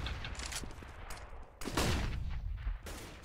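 Gunfire in Counter-Strike: Global Offensive during an ESL Go4CS:GO Cup match, a burst of loud shots with sharp bursts and rattling echoes, over continuous background game noise.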